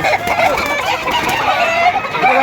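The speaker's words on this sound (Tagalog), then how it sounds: "ayon kay Boss Erwin, napakaraming manok." Many chickens cluck busily together up close at a chicken market, with roosters crowing through the constant flock noise.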